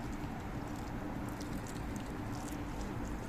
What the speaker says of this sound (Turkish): Şu su sesi bile bize çok iyi geliyor.